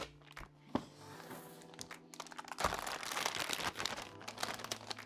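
A graphics card box is opened nearby with bursts of crinkling, tearing and plastic handling, sparse at first and then dense and busy, alongside a low hum.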